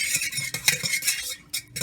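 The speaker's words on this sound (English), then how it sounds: "whisk those together and beat those together" Milk, vegetable oil and lemon zest are whisked in a bowl for egg-free blueberry muffins, quick close clinking and scraping strokes in an irregular rhythm.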